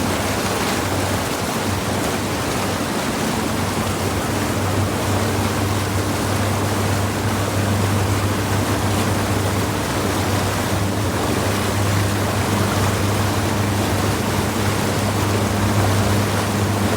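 A DIY drum raft pontoon porpoising at speed, with water splashing and rushing steadily over the top, loud and continuous alongside a low hum of the motor.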